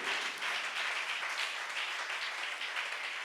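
A congregation claps during a Sunday church service, a bright, continuous patter of many hands at fairly even loudness, with no clear talk over it.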